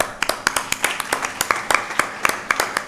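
An audience at a student debate held during a birthday celebration claps steadily for about three seconds. The crisp, uneven hand claps sound like a modest group, with no cheering.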